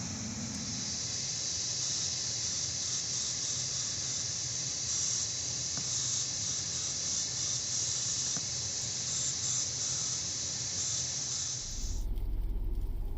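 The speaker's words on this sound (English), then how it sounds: "Before you spray the disinfectant spray" Disinfectant spray hisses in a long, steady continuous jet into the cabin fan intake of a 2018 Toyota RAV4 Hybrid, close and uninterrupted before cutting off abruptly near the end.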